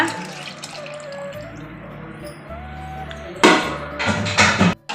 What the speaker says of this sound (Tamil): இப்போ ஒரு குண்டா தண்ணி இதில் ஊற்றிக்கலாம்